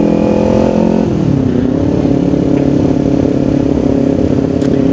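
Kawasaki All New Ninja motorcycle engine running on Shell Advance AX7 10W-40 oil, its steady note dropping briefly then climbing and holding as it accelerates, loud and close with no talk over it.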